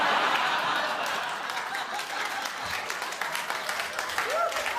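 A comedy club crowd applauds and laughs during a stand-up set, a full, sustained wash of clapping with chuckles mixed in and a voice briefly audible near the end.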